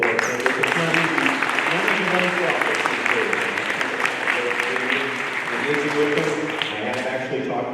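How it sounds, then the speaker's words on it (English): An audience at a council candidates' forum applauds steadily for the full stretch, a dense, even patter of many hands with voices audible over it. "can we just give a big round of applause to both of our candidates?"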